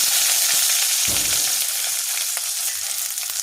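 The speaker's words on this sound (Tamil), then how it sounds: "நம்ம அடுத்ததான் வெங்காயத்தை சேர்த்துக்கலாம்." Onion dropped into hot oil already holding fried mustard seeds and lentils for a snake gourd stir-fry, a loud close burst of sizzling that stays dense and steady with a brief stir, no voices.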